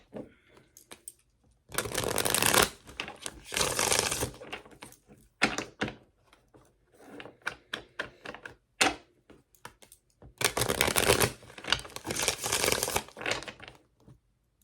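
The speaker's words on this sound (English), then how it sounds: "after all that shuffling, we still have I can't stop thinking about you on the bottom of the deck" Playing cards are shuffled in several bursts of rapid riffling and rustling, separated by quieter taps and handling noises.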